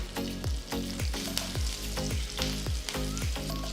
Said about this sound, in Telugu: ఆవాలు చిటపటలాడిన తర్వాత రెండు ఎండుమిరపకాయలు వేస్తున్నాను